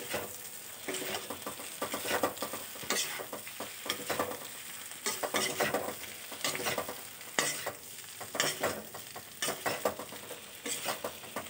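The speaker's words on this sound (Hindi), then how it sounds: "पहले हम डाल रहे हैं आलू, अब हम अच्छे से हिलाएंगे इसको।" Potatoes frying in a pan for cauliflower sabzi are stirred with a utensil, giving repeated scraping bursts over a steady close sizzle, with no talking.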